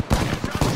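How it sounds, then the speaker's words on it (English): A quick run of gunshots from the Apex Legends video game, several sharp bangs in under a second, loud and close. "I hit him. I shot him."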